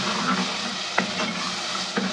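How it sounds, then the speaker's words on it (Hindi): Spice paste for chicken handi gets mixed in a hot cooking pot, a steady sizzle under a few sharp scrapes and knocks of the spoon against the pot, close up. "अब हम सारा पेस्ट जो है वो इसमें डाल देंगे और अब हम इसे अच्छे से कर लेंगे मिक्स"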